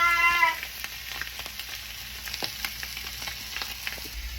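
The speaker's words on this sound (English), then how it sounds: "We're gonna sear it on all sides" A tomahawk steak sears in a hot pan, a steady soft sizzle running throughout with a brief tonal squeal at the start and scattered small crackles and pops.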